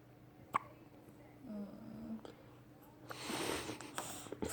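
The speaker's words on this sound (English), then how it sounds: "he's got the hiccups" A baby's hiccups come in a few short, soft bursts, close by, amid faint rustling and handling noise during a feeding.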